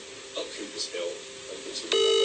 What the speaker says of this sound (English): This is me calling the girl's phone.